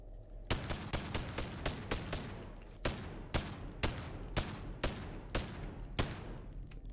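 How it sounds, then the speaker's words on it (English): Gunfire in the VR video game Boneworks: about a dozen sharp, loud shots in a quick, slightly uneven series, each a crisp crack with a short tail. "that's just my gunshots"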